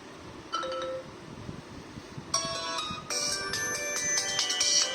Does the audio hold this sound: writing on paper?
no